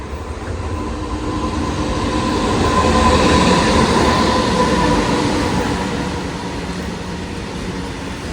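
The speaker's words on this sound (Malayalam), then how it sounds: "ഇത് ഷൊർണൂർ ഭാഗത്തേക്ക് പോകുന്ന ഏതോ ഒരു ഗുഡ്സാണ് കേട്ടോ." A goods train headed toward Shoranur runs through Ottapalam railway station, hauled by twin WG9 locomotives from Hubli, with a loud, sustained rolling rumble of wagons swelling to a peak midway and easing slightly.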